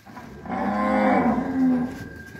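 Cattle lowing loudly on a farm while cows and bulls are being separated, one long, deep moo swelling and fading over about two seconds, close by and with no talk over it.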